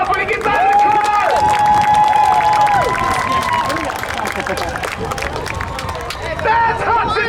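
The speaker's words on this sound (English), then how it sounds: "Give him a big old round of applause when he gets out of the car." A crowd claps and cheers at the Hudson Speedway stunt show, a loud, steady wash of applause mixed with voices and engine whine that fades slightly and swells again near the end.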